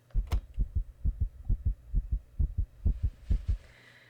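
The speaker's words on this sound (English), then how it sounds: "Did you hear the heartbeat?" A game heartbeat effect in Night of the Living Dead: deep, muffled thumps in steady paired beats, about a dozen in quick succession, over a low hum with faint background tones toward the end.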